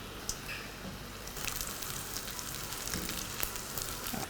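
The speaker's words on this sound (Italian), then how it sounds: "E ora comincio a friggerli, scolo per bene l'eccesso e si mettono a friggere." Battered onions fry in hot oil with a steady, fairly faint sizzle and crackle that grows a little busier partway through, with no talking.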